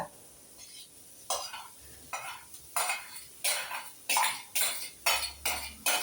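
Spatula scraping and stirring egg fried rice in a hot frying pan, a steady series of about ten rhythmic scrapes and clinks over a low sizzle, close and clear with no talking.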